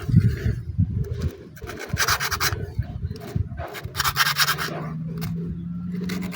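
Bursts of rough, scratchy rubbing from 300-grit sandpaper on a TMX 125 motorcycle part repeat in uneven strokes, close and moderately loud, with brief pauses between passes and a low hum underneath.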